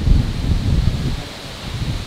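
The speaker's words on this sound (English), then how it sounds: "it's been quite windy for the last two days" Steady gusty wind roars through trees with rustling leaves in the Philippines as a typhoon approaches, loudest at the start and easing slightly, with no voices.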